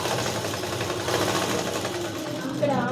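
A sewing machine runs steadily and loudly, stitching the back part of a blouse with an even, continuous mechanical whir from start to finish.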